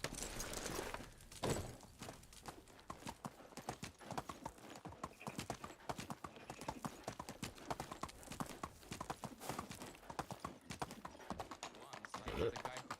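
Horse hooves wearing iron horseshoes clip-clopping in the medieval video game Medieval Dynasty, a quick rhythmic stream of hoof steps, fairly faint, with a person talking over parts of it.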